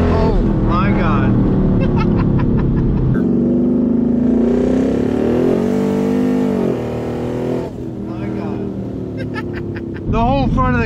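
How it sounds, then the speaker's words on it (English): A boosted Ford Mustang GT accelerates hard, its engine rising in pitch through a loud sustained pull with gear shifts, while people talk and exclaim inside the car. "The whole front of the car lift, that's fast."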